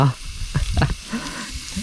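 Pork sizzles and crackles on a hot Thai moo kratha grill pan up close, a continuous frying hiss with some stirring noises.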